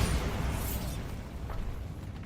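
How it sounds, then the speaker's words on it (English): A Bombarda spell explosion in Hogwarts Legacy lands as a broad, loud burst of noise at once, then tails off into a rumbling, crackling decay with no talk over it. "Bombarda!"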